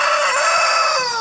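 A rooster crows loudly and close by in a garden chicken pen, one sustained cock-a-doodle-doo filling the moment with no talk over it.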